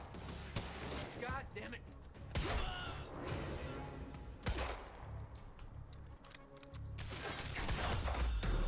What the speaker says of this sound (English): They're fucking shooting at us.